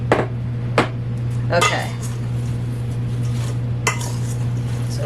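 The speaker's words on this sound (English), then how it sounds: "I think I'm going to actually transfer these to my bigger bowl" Apple slices are moved into a bigger bowl, with a few sharp clinks and clatters of dishes and utensils over a steady background hum, and a brief spoken word.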